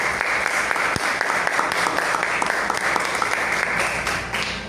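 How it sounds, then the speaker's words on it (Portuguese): A church congregation claps together during a service, a dense, steady wash of applause that stays loud throughout and eases off slightly at the end. "Vamos aplaudir a Deus pela vida dos líderes de célula."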